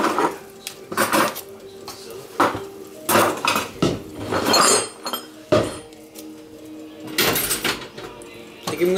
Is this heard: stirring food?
yes